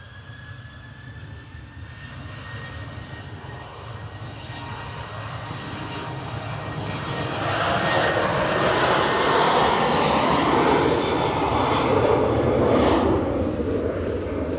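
A KLM airliner passes at Manchester Airport, its engines a steady, broad roar that swells and then holds loud and close for several seconds before easing slightly.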